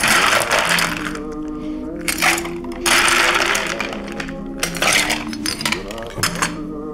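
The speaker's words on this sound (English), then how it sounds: "Next up, we're gonna ice these up." Ice cubes clatter into a metal cocktail shaker in several loud rattling bursts, with clinks and scrapes between pours, close by and without talk.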